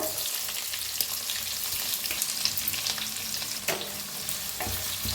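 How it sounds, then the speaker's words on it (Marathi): Onions and green chillies frying in hot oil and ghee with whole spices in a pan, a steady close sizzle with occasional scrapes and stirs, no talking. "भाजून घेऊया कांद्याला"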